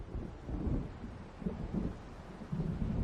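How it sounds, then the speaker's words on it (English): Low rumbling thunder and storm ambience in the video game Alan Wake Remastered, with deep rolling swells and a wash of rain and wind, steady and moderately distant with no voices. "It seems there's a storm coming."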